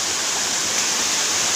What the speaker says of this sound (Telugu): వేణుతల కోన వాటర్ ఫాల్స్ ఇవి